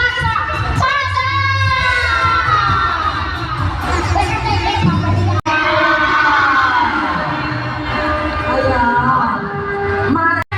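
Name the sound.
crowd shouting and cheering at a Christmas party game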